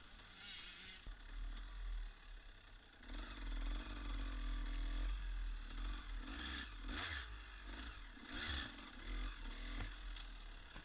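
A 300cc dirt bike engine lugs and revs on an up-and-down trail, its rough exhaust drone rising and falling through the ride, with clattering and scraping from the terrain close by.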